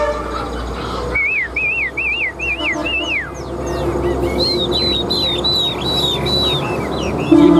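A songbird sings bright, looping whistled phrases, first rising-and-falling notes then a series of higher sweeping calls, close and clear over steady background hum.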